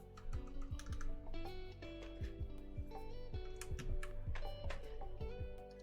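Fast typing on a custom-built mechanical keyboard gives clacky, close key strikes in quick irregular bursts, fairly quiet with no talk.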